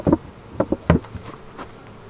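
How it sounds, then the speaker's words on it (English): Angry honey bees buzz around an opened hive, several individual insects zipping past the microphone in short rising and falling drones, close and fairly loud with no talking. "Yeah, that angered the bees."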